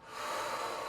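A single long, soft exhale through the nose or mouth during yoga breathing, a breathy airy rush that swells and holds steady for under a second, close and quiet.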